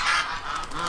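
A goose on a farm gives one short, loud nasal honk close by, with a fainter honk trailing after it.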